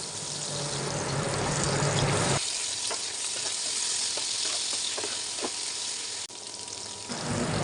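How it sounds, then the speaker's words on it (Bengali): Chopped onion and ginger-garlic paste fry in hot oil left from frying fish. A loud, steady sizzle goes on throughout, broken by a few light stirring clicks. "এখন দিয়ে দিলাম কাটা পেঁয়াজটা হালকা ভেজে নেব"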